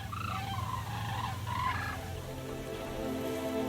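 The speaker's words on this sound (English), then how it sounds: "The cranes gathered in little groups in the meadow." A flock of cranes gathered in a meadow at dusk calls in repeated honking and bugling notes over a steady low background rumble, moderately distant and without voices.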